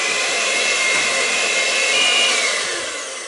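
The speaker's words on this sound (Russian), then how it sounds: "И взбиваю венчиком на маленьких оборотах." An electric whisk beats very soft butter at low speed for a cookie torte, giving a steady, close, even whirring drone that holds level and eases off slightly at the end.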